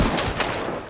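Nitro Express rifle in the game Hunt: Showdown, a heavy gunshot with a rolling echoing tail; a few sharp reports over a dense, loud burst lasting about a second.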